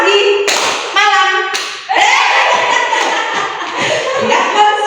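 Children in a classroom clapping along in a call-and-response clapping game, short bursts of claps separated by a teacher's spoken cues, with chatter and shuffling around them.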